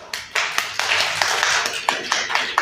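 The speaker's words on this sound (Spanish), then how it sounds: "Oh, muy bien, un aplauso." Small group of older adults in a community center clapping, a short round of sharp, uneven claps close by with no talking over it.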